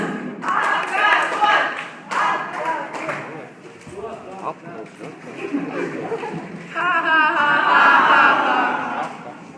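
An audience at a school evening event claps together in bursts, crisp and fairly close, with talking and a few voices between the rounds of applause.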